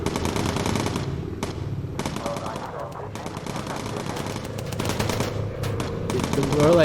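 Bomber gunners in the video game Bomber Crew fire at enemy planes, loud rapid machine-gun bursts rattling repeatedly and nearly continuously over engine drone.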